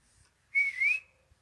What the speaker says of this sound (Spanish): No me sale el silbato.